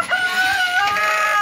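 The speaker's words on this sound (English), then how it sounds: "I was filming the rooster." A rooster crows nearby, loud and close, one sustained cock-a-doodle-doo call held for over a second against quiet surroundings.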